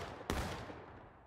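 Rifle volley fired on command in a virtual reality battle game: one sharp, loud crack of simultaneous shots followed by a rumbling echo that fades out.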